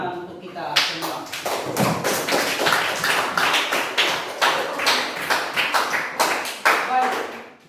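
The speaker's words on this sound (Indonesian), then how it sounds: "Kita sekali lagi Pak minta tepuk tangan untuk kita semua." Classroom applause from a group of students, a dense run of claps with sharp transient taps lasting several seconds, fairly loud and close.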